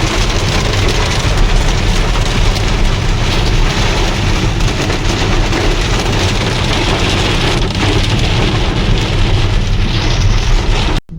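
Dense, steady hiss of hail and heavy rain pelting surfaces in Delhi NCR, loud and close throughout, with a low rumble underneath and no voices.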